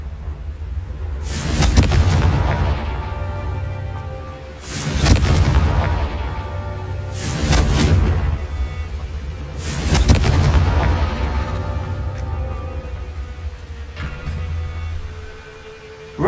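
Repeated explosive blasts from the Confringo fire spell in the video game Hogwarts Legacy, four loud booming bursts spaced a few seconds apart with rumbling tails and no talk.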